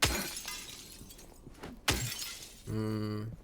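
Glass shatters loudly in a horror video game set in a prison, a sharp crash with scattering shards followed by a second break and a lingering tonal game sound.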